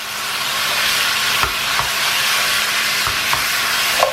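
Mutton pieces fry in a very hot pan at a roadside stall for a Kashmiri rogan josh, a steady loud sizzle with a few sharp scrapes as the meat is stirred, no voices.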